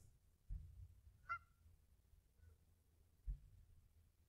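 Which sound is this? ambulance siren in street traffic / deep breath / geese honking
geese honking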